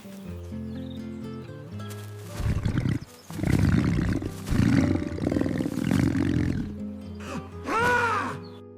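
A big dog attacking a fox in a fairy tale, heard as loud roaring, snarling animal sounds in several surges over a musical backing, ending in a rising howl-like cry.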